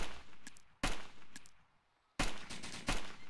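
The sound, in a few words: gunshots from an enemy player in the video game DayZ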